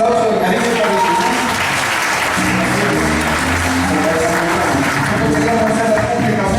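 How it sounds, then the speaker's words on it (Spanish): An audience at a church gathering applauds warmly and continuously, a dense steady clapping with voices mixed in throughout. "Un aplauso de cariño para el Señor."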